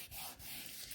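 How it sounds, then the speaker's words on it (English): Paper craft panel for a 3D snowflake fun-fold card being rubbed firmly by hand to stick it down, a close, continuous dry scuffing that runs steadily for about a second. "you're going to stick that down like that and give it a really good rub"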